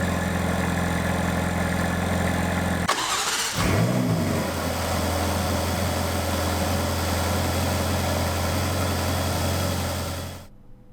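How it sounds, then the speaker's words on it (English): Ferrari California T, a 2016 twin-turbo supercar, cranks and fires with a sharp burst, then settles into a steady, loud, close idle with a low drone that runs alone until it cuts off near the end. "So let's start it up here and see how this twin turbo engine sounds."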